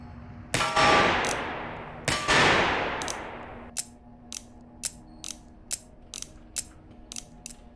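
Gunfire and bullet impacts from the VR shooter game Receiver 2: two loud, sharp shots with long ringing decay, followed by a rapid series of crisp mechanical clicks and clacks, evenly spaced like a gun's action being worked repeatedly.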